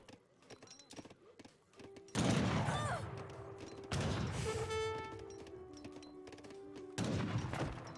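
Age of Empires 3 match between Ottoman and Spanish sides, with town centers firing away amid broadband bursts of battle noise, clattering hooves and unit sounds, loud in waves; a voice speaks over parts.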